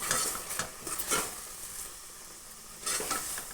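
Raw mango gulamba cooks in ghee in a pan and is stirred steadily. Bursts of scraping and sizzling repeat at close range with no talk.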